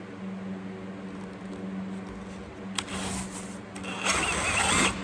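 A drill boring a hole with a Forstner bit: a low motor hum gives way to two short, rough grinding bursts of cutting, fairly quiet and with no talk.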